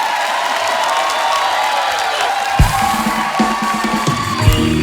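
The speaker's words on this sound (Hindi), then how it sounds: "ये ताली मेरी बात पे हो रही है या उसके काम पे हो रही है?" A studio audience at a comedy talk show applauds and cheers in a dense, steady wash of clapping and voices, with a few louder thumps rising near the end.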